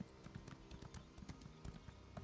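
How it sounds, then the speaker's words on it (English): A horse summoned in The Elder Scrolls Online clip-clops in quick, light hoofbeats, a brief burst of rhythmic steps heard faintly and close, without any talk over it. "It's H to spawn your horse."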